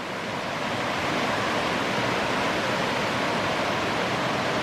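Rushing water of the Rose River near its falls in the backcountry, a steady broadband roar that fills the whole clip, loud and unbroken like close whitewater.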